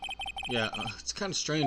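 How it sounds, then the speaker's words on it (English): A modern electronic phone ringtone in the Ace Attorney video game chirps in short repeated bursts at the start, then keeps pulsing faintly beneath a voice as he talks over it. "I heard a phone ring just now, one of those newfangled ringtones."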